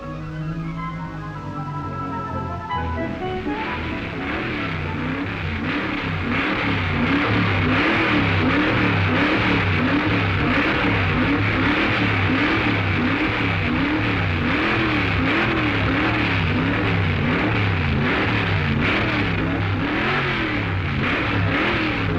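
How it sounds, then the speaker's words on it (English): A 1950s hot rod dragster, the Martin Nelson Masters Dragmaster, revs hard on a record run, its engine rising and falling in repeated loud surges that settle into a sustained, close roar. "it's the Martin Nelson machine, the Masters Dragmaster. They'll be running down for a record run."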